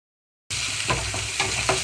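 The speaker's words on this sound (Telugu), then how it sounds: "జీడిపప్పు పచ్చిశనగపప్పు కొద్దిగా కలర్ మారే వరకు వేయించుకోవాలి" Cashews and chana dal frying in a pan over a low flame, a steady close sizzle broken by a few soft stirring scrapes.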